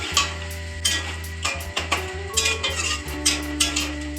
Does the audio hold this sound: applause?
no